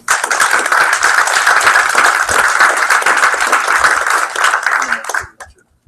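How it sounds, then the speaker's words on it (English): A room of people at a game studio pitch night applauds two contributors, with dense, loud, steady clapping for about five seconds before it quickly stops, leaving a few scattered claps. "So round of applause for those 2"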